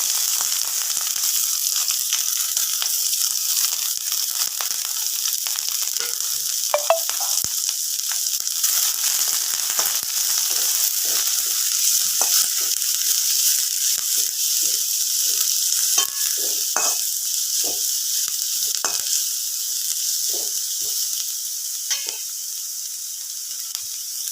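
Dried chili, curry leaves and onion sizzle steadily in hot oil in a pan, with scattered stirring scrapes and crackles throughout, close and continuous, no talking.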